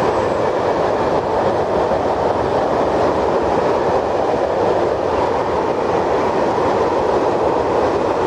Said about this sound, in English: Can you see there where the train went past?